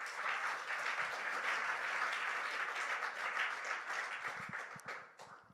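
A church congregation applauds during a French-language worship service, a dense, steady wash of many hands clapping that carries on for several seconds before thinning out near the end.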